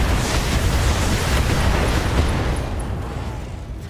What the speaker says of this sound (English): So an ammo explosion and left torso was destroyed.